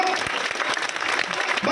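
An audience claps at a Hindi poetry recital (kavi sammelan), with dense, continuous applause of many hands close by and crowd voices mixed in throughout.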